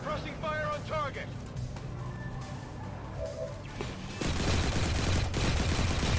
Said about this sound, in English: Suppressing fire on target.